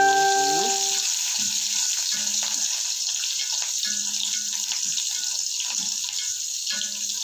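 Onion and garlic frying in coconut oil, a steady loud sizzle with brief low scraping knocks from stirring scattered throughout.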